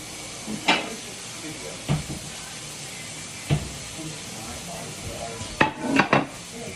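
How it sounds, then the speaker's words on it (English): Steaks lifted off a stovetop burner, set on a plate and cut into servings: a few scattered clinks and knocks of pan, plate and cutlery over a low hiss, louder in a short cluster near the end. "I'm going to take these off the eye right now and put them on a plate and start cutting them into servings"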